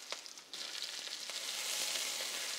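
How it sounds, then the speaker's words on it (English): Lobster dropped into hot oil and butter in a pan, a soft crackle that swells into a steady, dense sizzle which keeps building, close but fairly quiet, with no talking. "And lobster is a very quick fry."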